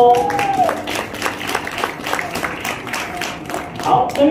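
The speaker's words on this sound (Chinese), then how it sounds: "我们掌声欢迎高店东" An audience at a real-estate agency awards ceremony claps to welcome a presenter, a steady wash of applause filling the room for several seconds, with brief voices near the start and end.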